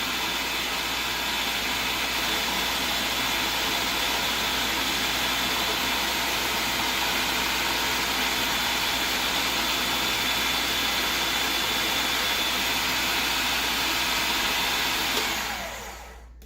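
A food processor spins continuously while blending basil pesto with olive oil, a loud, steady motor whir that holds level, then winds down at the end.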